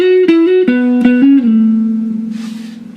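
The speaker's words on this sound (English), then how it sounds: "you're going to stay silent until you hear the rhythm guitar play something like this." Rhythm guitar phrase from the verse of a song, a few picked notes stepping down in pitch, ringing clearly and up close, then sustaining and fading alone with a faint breathy noise near the end.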